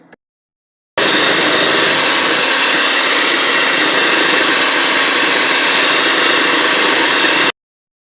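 An electric mixer beats sugar into vanilla cake batter. A loud, steady whir runs unbroken for about six seconds, then stops abruptly, with no talking.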